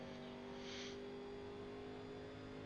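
Race car engine in iRacing, an 87 car at Atlanta 2008, holds a steady loud drone with strong tonal harmonics, a brief higher whoosh early on, no talk.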